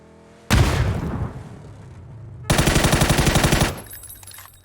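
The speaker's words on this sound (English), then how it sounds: "They threw a grenade at me." A grenade blast in a shooter video game, a sudden loud boom that fades, then a second burst of rapid, rattling explosive pops, close and harsh with no talking over it.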